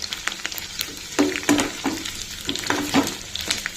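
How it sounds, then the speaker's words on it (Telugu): Cauliflower pieces frying in a pan for a quick shallow fry, sizzling steadily up close while a utensil stirs and clinks against the pan in uneven strokes, with no talking. "వేసుకొని ఒక 1 minute అండి ఫ్రై చేసి తీసేసుకుందాం"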